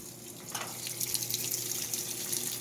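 Water rushes steadily into an old dial-operated washing machine, a constant hissing flow over a low mechanical hum, close and moderately quiet with no speech.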